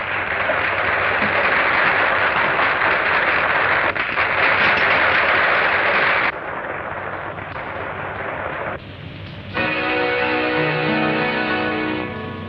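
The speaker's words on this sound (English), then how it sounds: "Listen to that applause" Loud, dense applause from a theater audience at a Western cowboy show, sustained roaring clapping that shifts level twice, with a brighter musical tone entering near the end.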